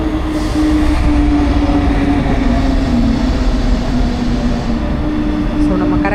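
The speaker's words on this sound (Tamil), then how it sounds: "இது வேறு ஏதோ ட்ரெயின் வருது." A train rolls into a railway station platform with a loud, continuous rumble and a sustained metallic drone, and voices can be heard faintly under the noise.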